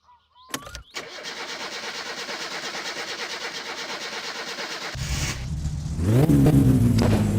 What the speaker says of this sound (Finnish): Siinä on 7 litran kasi, joka syö sun säästöt kyllä aika nopsaa